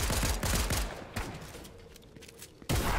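Several rapid heavy shots open the stretch in a Fortnite match, each a loud close blast, then a quieter gap with faint rumble before another sharp blast cuts in at the end.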